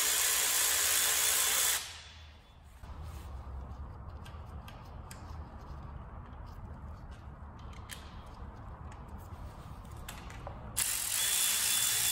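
A hand ratchet wrench clicks in a quick, steady run of small ticks while working on a 2JZ-GTE engine's oil pump, water pump and crank gear. The clicking is faint and close, with no talking.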